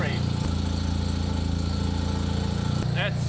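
A rotary engine in a Corvette runs with a steady, buzzing idle pulse that rises briefly near the end as the turbo spools up, heard close with voices talking over it.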